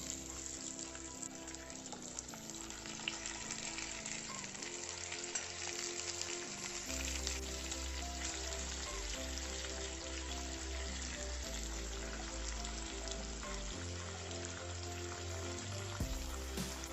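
Half-cooked fried fish laid into a curry pan, giving a steady, dense sizzle and crackle that runs unbroken and fairly faint throughout, with a low hum underneath.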